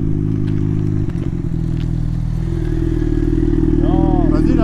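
A motorcycle engine runs loud and close with a steady deep throb, then revs up in rising sweeps near the end. Voices may sound faintly underneath.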